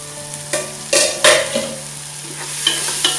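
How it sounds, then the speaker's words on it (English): Mushroom pulav being made as a spoon stirs soft cooked tomatoes in a hot pan, giving several close scraping and clattering strokes over a faint steady sizzle, with no talking. "Give it a mix."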